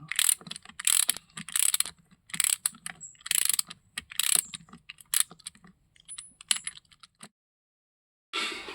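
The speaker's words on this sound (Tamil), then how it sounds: "இன்னும் போல்டு போட்டு டைட் பண்ணிட்டு போகிறேன்" Bolts are tightened on a JCB in a run of quick metallic ratcheting bursts, close and loud, separated by short pauses, then a stretch of near silence before a final burst of noise.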